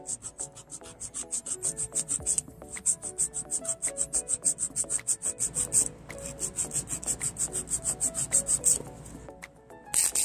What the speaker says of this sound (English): So now we're gonna start filing.